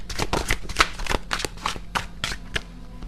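An oracle card deck is shuffled by hand in a quiet room, giving a quick run of crisp papery riffles and taps close by, with no talking.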